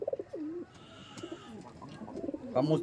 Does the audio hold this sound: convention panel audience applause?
no